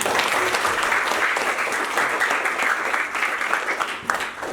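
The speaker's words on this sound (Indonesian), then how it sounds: "tepuk tangan buat kita semua" An audience applauding continuously at a computational thinking (coding and AI) session, dense clapping filling a room at an even level throughout.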